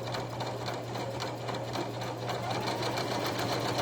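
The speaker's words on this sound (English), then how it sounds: "top stitching on tags? That's what I do, top stitching on tags" A sewing machine running steadily up close, top stitching on fabric tags, a fast even mechanical whir and rattle that continues without pause.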